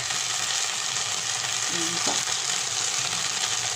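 Butter sizzling in a very hot pan with shrimp cooking, a loud, steady hiss that holds throughout with a brief clink of a utensil partway, close up and free of talk.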